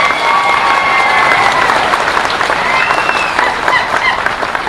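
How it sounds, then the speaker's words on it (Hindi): An assembly applauding to pass a resolution at a public meeting: dense, sustained clapping from a large crowd fills the whole stretch at a steady, loud level. "सभा एकजुट होकर एक मुट्ठी से तालियां बजाएं और इस प्रस्ताव को पारित करें"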